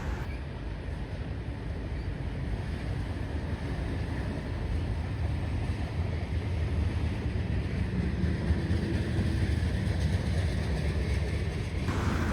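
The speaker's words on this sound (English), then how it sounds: "this train consisted of only Dash 9s" A BNSF freight train hauled by GE Dash 9 locomotives rumbles steadily with a low, continuous diesel drone and rolling noise, unbroken throughout.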